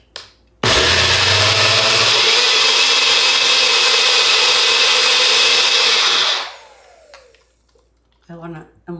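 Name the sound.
mixing cilantro dressing, likely with a blender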